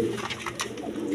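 Big sky-blue rasgolla pigeons with feathered feet coo close by, a soft, throaty burble with a couple of low pulses over a faint background hum.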